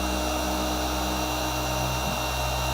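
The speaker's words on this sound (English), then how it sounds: "that's my weight bending over and putting my weight on the polisher" A Barjack 15mm car polisher runs with weight pressed down on it, giving a steady, close, droning motor hum that barely changes, with a slight dip in pitch near the end.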